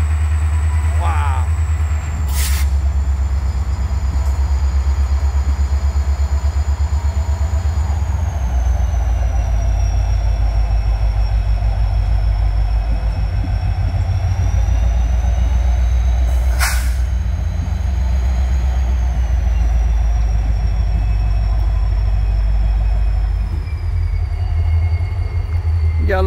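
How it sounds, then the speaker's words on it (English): Heavy low rumble of a freight train locomotive pushing cars during switching, steady and loud throughout, with occasional brief high-pitched squeals from wheels or brakes and faint talk underneath. "I love that rumble when they start that push."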